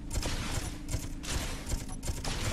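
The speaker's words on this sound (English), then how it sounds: "And we're firing." Mech weapons in the game Space Engineers fire in repeated bursts, a dense rattling barrage of shots with broadband crackle and low thumps pulsing roughly every half second, loud and continuous with no talk.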